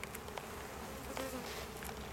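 A dense, steady buzz of many honeybees swarms around an opened beehive during an inspection, close and continuous with no voices.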